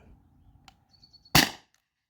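Single sharp crack of a T4E TR50 or Beeman BP50 air pistol, a loud close snap with a brief ring after a few faint clicks and a tone in quiet surroundings.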